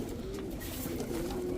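Giribaz high-flyer pigeons at a loft coo steadily in a low, continuous warbling hum, close and moderately loud for the whole moment, with no voices over it.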